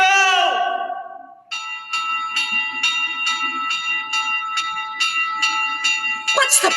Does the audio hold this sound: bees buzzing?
no